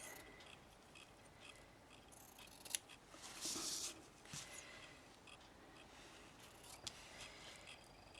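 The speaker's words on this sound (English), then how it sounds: "I want to cut out some little rectangles of the fabric" Scissors cutting small rectangles of fabric, a few quiet, close snips with one brief louder crisp cut in the middle, against a faint low background.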